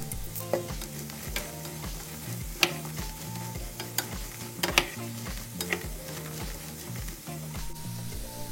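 Potatoes and garlic sauté in oil in a frying pan, giving a continuous sizzle broken by frequent scraping and stirring clicks from a utensil, close and fairly loud.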